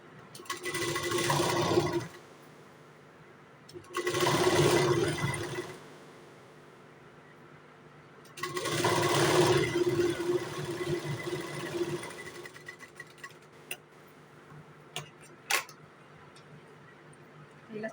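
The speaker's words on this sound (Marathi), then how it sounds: "ह्याला शिलाई मारून घेऊ" Sewing machine stitching a four-tuck blouse, three separate bursts of close mechanical whirring a few seconds apart, quiet gaps between them, with faint clicks toward the end.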